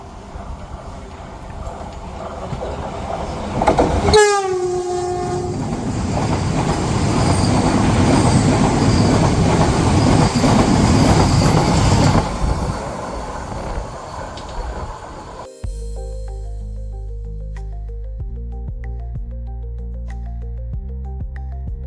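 A train on the Konkan Railway rumbles steadily along the rails with a rhythmic clatter and a brief high wheel squeal, loud and close, before cutting to quieter tones.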